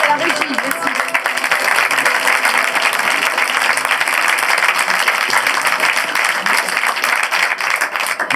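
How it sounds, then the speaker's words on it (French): Theatre audience applauds at the end of a performance of the play Oscar et la dame rose, a thick, continuous roar of clapping held at steady loudness throughout. "Merci pour vos applaudissements nourris"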